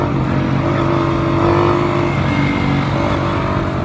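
Motorcycles carrying riders roll past on a road between Islamabad and Kotli Sattian, engines humming steadily with a rising tone mid-pass, fairly close and with no talk.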